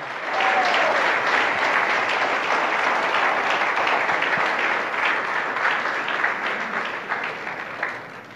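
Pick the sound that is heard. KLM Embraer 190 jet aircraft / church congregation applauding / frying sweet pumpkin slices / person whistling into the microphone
church congregation applauding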